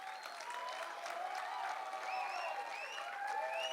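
Faint, distant audience applause rolls on steadily, with a few thin whistles rising above the clapping.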